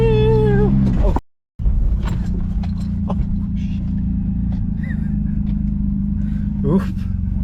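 A Ford Ranger mini truck wrapped in anime graphics drives along, its engine giving a steady, loud low drone with slight rises, after a brief high whine and a momentary dropout near the start.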